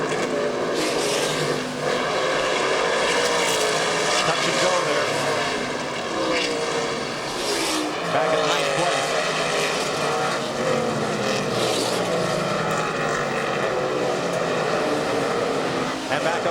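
NASCAR pickup trucks racing at dusk at Flemington Speedway, New Jersey in 1995, a continuous loud roar of engines and passing traffic from a pack of about a dozen trucks, steady throughout without pause.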